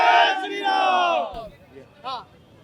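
A crowd at a political nomination rally in Chhattisgarh lets out a loud, sustained collective cry, followed by a shorter shout, close and strong.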